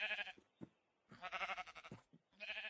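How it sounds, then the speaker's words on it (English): Sheep in a video game bleat in three separate bursts, the middle one a long wavering cry, with short soft sounds and a brief voice between them. "Oh, look, sheep."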